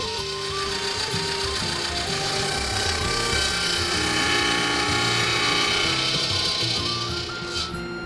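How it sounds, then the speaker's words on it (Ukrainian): A circular saw rips a log lengthwise near its edge, splitting it in half, a loud continuous grinding rasp of blade through wood that holds steady throughout. "Вмикаємо циркулярку і розпилюємо колоду вздовж ближче до краю, розділяючи її навпіл."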